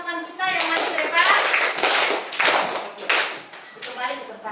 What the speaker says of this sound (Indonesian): Tepuk tangan buat teman-teman kita yang masih ke depan.